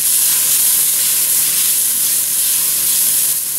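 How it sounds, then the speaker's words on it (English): Hot pan being deglazed after onions have cooked in it, for a chili with beans, giving a steady, loud, close sizzle and steamy hiss that holds without a break throughout. "Have to deglaze this pan and get some of that flavor."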